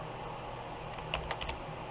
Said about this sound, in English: So notice I'm just typing it in the bottom